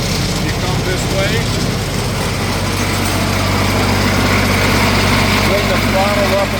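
The diesel engine of a Crary Bearcat CH611DH 6-inch wood chipper runs at a steady, loud idle while it warms up, holding an even drone throughout.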